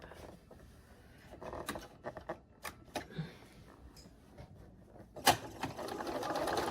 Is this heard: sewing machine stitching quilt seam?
yes